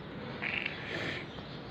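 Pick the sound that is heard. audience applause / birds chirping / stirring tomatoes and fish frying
birds chirping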